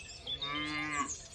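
A cow moos in one long, loud, drawn-out call as a sound effect in a children's story, with a rich harmonic tone that swells and fades over about a second and a half.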